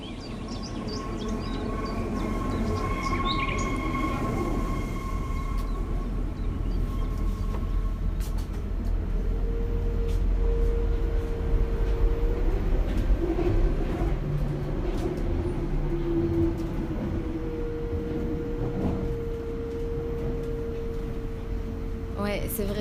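A subway train rumbles steadily with a low drone and occasional squealing tones, while people talk faintly in the background.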